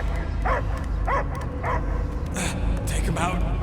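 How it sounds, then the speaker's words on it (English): A dog barks in short repeated bursts, about six yelps spaced roughly half a second apart, in the video game Guardians of the Galaxy, sounding close over a low background rumble. "I hear only barking."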